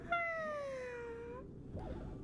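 A gray bean paste creature in Honkai Star Rail gives a single drawn-out meow, clear and close, with its pitch sliding slowly downward, followed by a softer murmuring sound.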